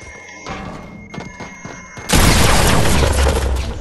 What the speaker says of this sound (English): Why are you shooting, bro?